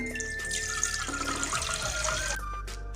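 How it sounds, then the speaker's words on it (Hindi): Water poured from a vessel into a saucepan already holding two cups of milk on the stove for jaggery tea, a steady close pouring stream with a rising pitch as the pan fills, no talk. "1 कप पानी ऐड कर देंगे।"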